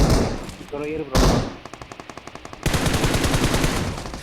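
Automatic gunfire in BGMI, a battle royale mobile game: a voice is heard first, then a rapid, evenly spaced burst of loud shots followed by a denser, louder stream of fire, all close and sharp.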